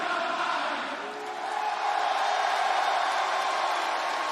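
Large wrestling arena crowd in Cleveland roaring and cheering in a steady, dense wash of noise, dipping briefly before swelling back to a sustained loud din.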